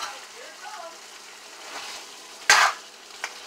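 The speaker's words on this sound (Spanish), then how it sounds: "Ahora vamos a proceder a ponerle el agua." Water poured into a pot of rice with vegetables, setting off one sudden loud burst of hissing sizzle that quickly dies down, followed by a faint later splash over a quiet kitchen background.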